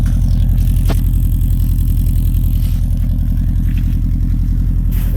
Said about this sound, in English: It's still got the Subaru noise